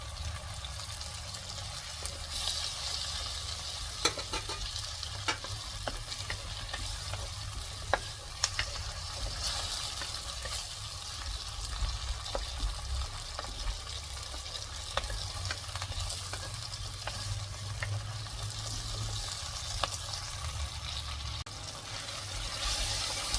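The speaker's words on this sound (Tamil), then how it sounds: "இன்னும் கொஞ்சம் நேரம் இந்த வெங்காயத்தை வதக்குவோம்." Onions sautéing in a pan for chicken fry, a continuous close sizzle over a low rumble, with occasional sharp clicks of a spoon stirring against the pan.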